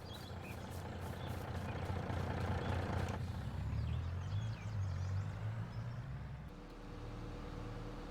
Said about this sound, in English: I'm going to head down in the truck.